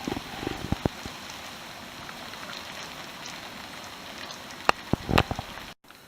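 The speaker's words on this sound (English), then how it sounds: "I'll find enough rain that I will not need to water Tom's garden." Steady rain falls on a garden during an approaching storm, a dense continuous hiss with a few sharper drips and taps near the start and again near the end before a brief drop to silence.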